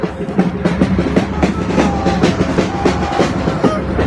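A metro train in Qatar rumbles steadily along the track, with a continuous low roar and rhythmic clacking heard from inside the moving car.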